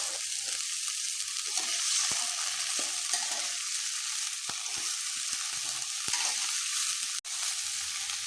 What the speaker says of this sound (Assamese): মই ধুই ৰখা ছজনাখিনি দি দিছোঁ আৰু এতিয়া মই 2-3 ছেকেণ্ডৰ কাৰণে ভাজি ল'ম।